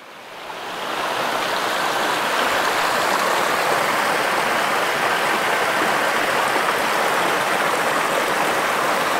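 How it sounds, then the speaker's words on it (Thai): Mountain stream at the source of the Nan River, flowing down from high hills: a steady, loud, close rush of water that swells in over the first second and then holds constant, with no voices. "ต้นกำเนิดแม่น้ำน่านเป็นลำธารที่ไหลลงมาจากภูเขาสูงนะครับ"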